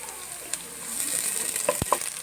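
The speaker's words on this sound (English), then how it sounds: "Now fry this ginger garlic paste in the oil itself till the raw smell goes off" Ginger garlic paste frying in oil, a quiet, steady sizzle lasting a couple of seconds with a few sharp clicks of a utensil near the end.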